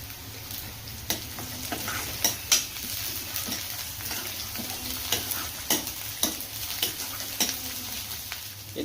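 Curry leaves frying in hot oil for dal, giving a steady close sizzle broken by sharp crackles and pops, with occasional stirring clinks of a utensil against the pot.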